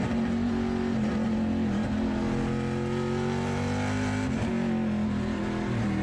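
A Trans Am TA2 race car at Portland International Raceway, heard onboard as a loud, continuous engine drone that shifts pitch through a downshift into third gear and then keeps pulling hard, with no talk.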